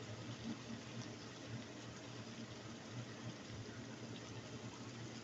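Water poured into leftover canned sardine sauce in a pan, a steady, soft, continuous splashing and sizzling wash with no talking.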